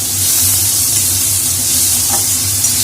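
Chopped tomatoes with salt and spices sizzle loudly in a pan, a close, steady frying hiss with a faint stir or scrape near the end.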